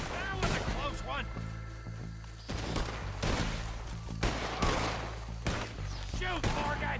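Gunshots crack repeatedly through a shootout in Red Dead Redemption 2, dense bursts of sharp reports under shouted dialogue and a low musical drone.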